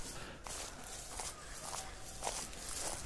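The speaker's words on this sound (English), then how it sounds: "Chat, I hear footsteps." Footsteps in a bodycam-style horror video game, a series of soft, fairly regular steps spread across a few seconds over a constant low rumble of ambient noise, moderately close.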